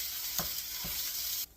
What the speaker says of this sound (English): You're just going to brown your sausage up